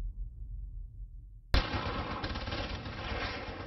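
Gunfire from the last hijacker during a GIGN assault on a hijacked airliner: a low muffled rumble gives way abruptly to a sustained, loud, dense burst of automatic fire that continues to the end.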